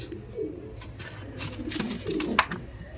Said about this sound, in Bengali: দেখুন আর একটা পায়রা